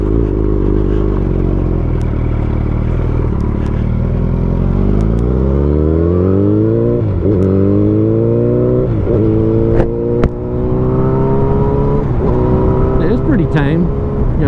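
Yamaha FZ8 motorcycle engine revving loud and close while riding, its pitch climbing through repeated rising sweeps as it accelerates through the gears, with a voice talking over the steady engine drone.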